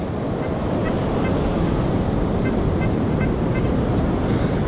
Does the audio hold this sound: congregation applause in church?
no